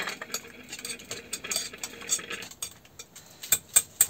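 A spoon stirs a cream mixture with shrimp in a bowl for a fish and shrimp terrine, giving close, irregular scraping and clinking strokes that end in a few sharper taps.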